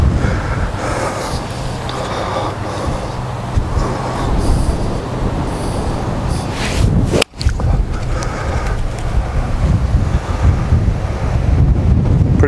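Strong wind buffeting across an open golf course, a loud continuous roar rushing over the microphone with one brief dropout, no talk.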